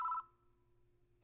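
A telephone in the horror game Spirit Hunter: NG gives a short, bright ring that cuts off abruptly, leaving a quiet low hum.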